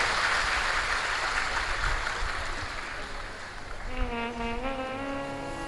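Audience applause at a Shiv Mahapuran katha gathering, a dense broadband clapping wash sustained throughout, with a sung or droning musical tone entering near the end.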